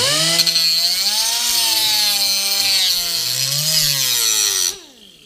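A power tool grinds a flat polish onto the metal of a lawnmower blade, giving a steady, loud, rasping whine with a wavering pitch that runs for several seconds and then cuts off abruptly near the end.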